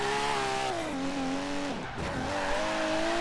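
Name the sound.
tire skid of '92 Toyota Supra drifting in Forza Horizon 3 video game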